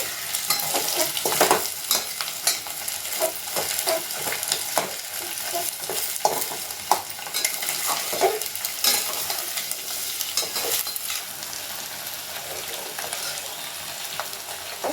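Chopped cabbage is stir-fried in a pan for chicken noodles: a continuous close frying hiss broken by frequent scraping and tossing strokes, with no voices.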